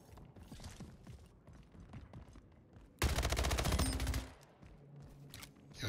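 Rapid SMG fire in the video game Splitgate, a dense burst of about a second standing out loudly against quieter game sounds and clicks, then tailing off.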